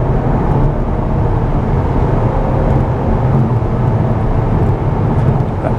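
A VW Arteon R Shooting Brake cruises in comfort mode with no synthetic engine sound, leaving a steady low road and tire rumble with a soft engine drone inside the cabin.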